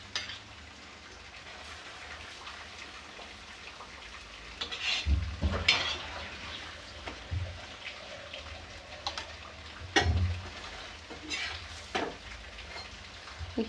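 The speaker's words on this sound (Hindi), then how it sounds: "अब इसमें तेल लगा रहे हैं। देखिए कितनी अच्छी तरह से सिक रहा है।" Oil sizzles softly on a griddle as an aloo paratha cooks. The crackle is low and steady, with a few louder pops and scrapes scattered through it.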